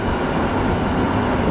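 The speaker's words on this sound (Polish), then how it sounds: "O, znowu pociąg." Train rolling past beside a railway-track militaria flea market in Wrocław, a steady, loud broadband rumble filling the whole moment without a break and no voices over it.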